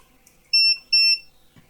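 Two short, loud, high electronic beeps from a multimeter in continuity mode during a PS3 Fat repair, evenly spaced and clear against near silence.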